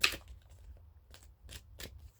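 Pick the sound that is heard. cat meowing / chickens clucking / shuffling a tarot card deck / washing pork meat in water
shuffling a tarot card deck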